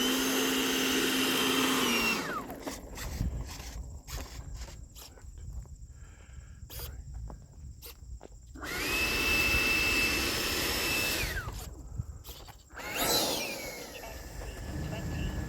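The electric ducted-fan motor of an E-Flite 80mm F-16 RC jet whines loudly and close, spooling up and down in repeated bursts with rising and falling pitch and quieter gaps between runs.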